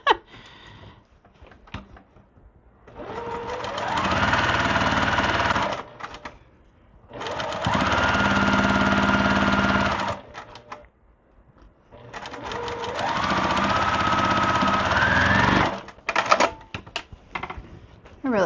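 A sewing machine stitches a quilt sampler in three long, loud runs of rapid, steady stitching, separated by pauses filled with quieter handling clicks and brief talk.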